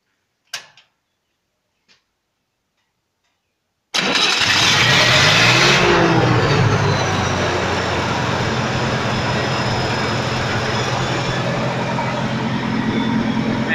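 A Lincoln SA-200 welder's engine cranks and fires after a few quiet clicks, then settles into a loud, steady close-up running drone at high idle.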